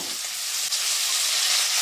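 Potatoes with beans and aubergine frying in a pan at home give a steady, close crackling sizzle that runs unbroken, with a brief dip partway through and no voices.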